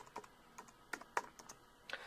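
Computer keyboard keys tapped while typing a search query, a quick run of light, close clicks in small bursts with brief pauses, no voices.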